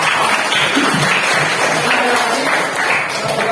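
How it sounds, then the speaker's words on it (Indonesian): Applause fills a classroom, with a steady wash of clapping from students that stays loud and even throughout, while a voice talks faintly underneath. "Ya, tepuk tangan."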